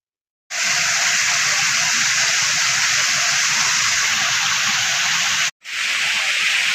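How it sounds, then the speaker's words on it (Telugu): A forest waterfall pours down from above in a loud, continuous rushing roar that starts abruptly, breaks off for a moment near the end, then resumes. "ఈ నీళ్లు తలకాలలో నీళ్ళు ఎట్లా పైనుంచి పడతాయో ఆ విధంగా అక్కడి నుంచి పడుతున్నాయి."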